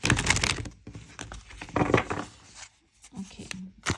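Tarot cards being shuffled by hand, with quick bursts of papery riffling and flicking, then brief pauses and a few soft taps as the deck settles; close and fairly quiet.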